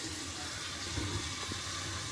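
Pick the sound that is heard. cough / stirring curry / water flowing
water flowing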